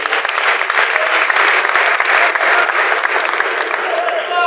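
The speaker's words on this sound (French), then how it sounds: "Messieurs et dames, est-ce qu'on peut applaudir pour l'IGF?" Loud, close applause from an audience at a stage event honouring the IGF, dense clapping that continues steadily, with some voices mixed in.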